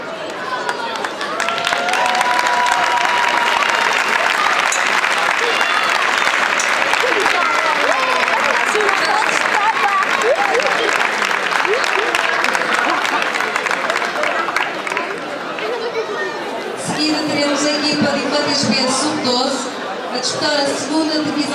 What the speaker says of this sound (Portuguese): Um forte aplauso para eles, por favor.